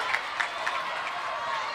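A high school volleyball gym crowd at Sharyland versus McAllen Memorial fills the space with a continuous, moderately distant roar of applause and cheering, with a few sharper claps poking through.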